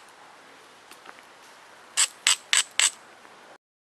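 Four quick, close, crisp ticks in a row as flakes are pressed off the thick bottom of a glass bottle while shaping an arrowhead, after faint scattered clicks, ending in silence.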